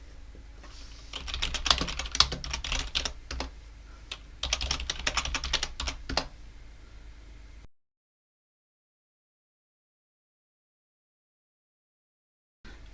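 Rapid typing on a computer keyboard while entering a terminal command to fix broken packages during an Ubuntu upgrade, two dense bursts of close, crisp key clicks over a faint hiss, then silence.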